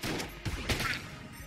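Friendly gunfire in the video game Enter the Gungeon comes as a short burst of a few muffled, quick shots, close and moderately loud, with no voice over it.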